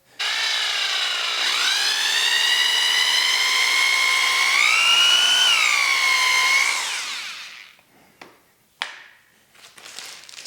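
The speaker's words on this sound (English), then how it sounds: "I'm going to go ahead and drill it." A power drill with a wider bit bores through a pipe while a coffee grinder is converted into a lamp, its steady whine running loud and continuous for about seven seconds, rising slightly midway, then stopping, followed by a few small knocks.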